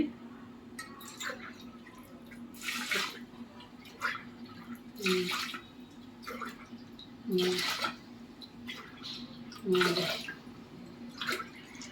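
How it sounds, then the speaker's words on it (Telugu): Water splashes into a pot of washed rice in five separate glassfuls, each a short gushing burst, with a steady low hum underneath. "ఐదు గ్లాసులు నీళ్లు పోసుకోవాలి"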